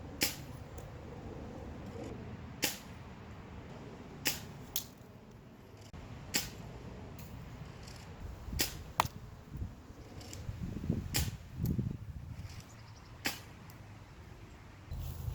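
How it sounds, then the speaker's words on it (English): A Nerf Megaburn blaster firing assorted darts at a Ridge wallet, with sharp separate snaps spaced a second or two apart over a low steady background hum and no talk. "I'm going to be shooting at it with my Megaburn with a variety of ammunition"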